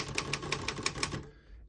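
Six evenly spaced keystrokes clack crisply on a 1940 Royal KMM vintage desktop typewriter, a sharp steady rhythm close up that stops and fades into quiet.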